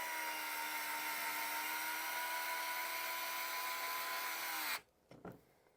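A Fanntik S1 Pro cordless drill on its highest torque setting drives steadily with a loud, even whir for nearly five seconds, then cuts off abruptly, followed by a few faint knocks.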